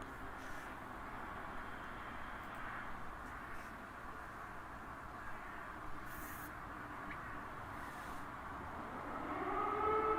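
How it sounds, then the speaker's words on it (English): An air raid siren sounds during the Russian invasion of Ukraine, a steady, distant wail held at an even level that swells slightly louder toward the end, heard alone without talk. "is that sirens? I hear sirens."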